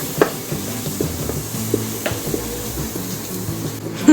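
Misal masala sautés in hot oil in a home kitchen, crackling and sizzling close up. A spoon gives a few sharp scraping knocks while stirring, with no voices.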